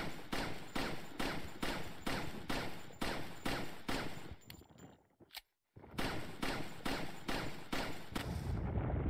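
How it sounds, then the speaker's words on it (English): Gunfire in the Resident Evil 4 video game, a rapid, regular string of loud shots that breaks off into a brief silence, then resumes at the same steady pace. "Shoot the shit out of that thing."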